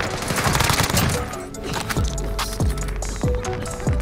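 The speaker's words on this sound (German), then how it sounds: "Hier wird geschossen." Rapid gunfire crackles through a video game shootout: a dense opening burst of shots, then heavy single reports landing at a steady pace, loud and close with a lingering low boom behind each.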